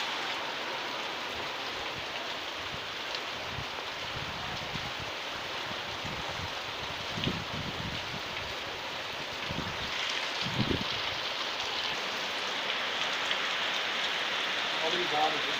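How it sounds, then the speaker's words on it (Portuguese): Heavy rain falls in a steady, fairly faint hiss, with a few soft knocks and splashes heard close by. "Porque a minha está assim, ó, chovendo, chuva forte."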